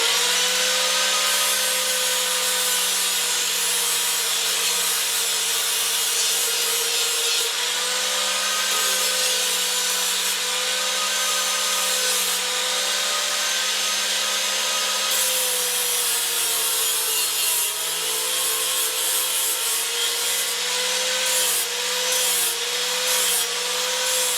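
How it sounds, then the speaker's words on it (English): An angle grinder with a 40-grit flap disc grinds the metal of a Oneway tool-rest platform, a loud continuous whining drone with a steady motor tone that dips slightly under load. "You want to keep a low angle on this particular style flap grinder, maybe less than 30 degrees."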